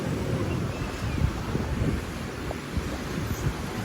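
Sea waves wash onto the beach at Kanyakumari in a steady, broad roar of surf, mixed with wind buffeting the microphone and no voices.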